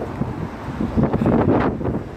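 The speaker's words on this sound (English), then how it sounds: "still madly windy, but at least it's dry" Strong, gusty wind buffets the microphone at the France–Spain border, a loud, rumbling roar that swells and eases throughout.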